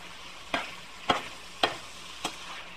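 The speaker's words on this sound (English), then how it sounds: "So I just cook it just a little bit, fry it up, just to firm up the texture a little bit." Food frying in a pan, a faint background sizzle broken by four evenly spaced scraping stirs, each a short sharp burst.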